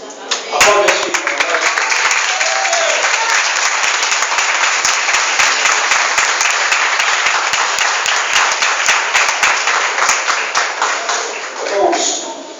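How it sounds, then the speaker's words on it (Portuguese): A church congregation claps loudly and steadily during a Portuguese-language worship service, dense applause filling about twelve seconds before fading, with brief voices at the start and end. "Aplaude a Senhor."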